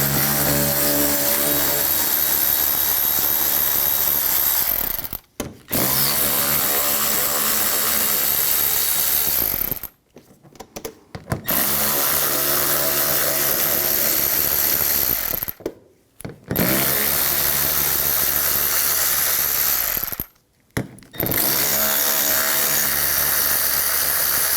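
A power tool with a 7mm socket backs screws out of the inner fender well of a 2013-2019 Ford Escape: four loud, close whirring bursts of about five seconds each, separated by brief pauses.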